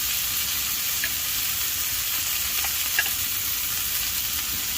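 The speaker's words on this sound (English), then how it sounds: "we will cook as the meat's almost done" Meat fries in a pan at a windy hot-tent camp, a steady, dense sizzle with a few soft ticks and pops. No voices are heard over it.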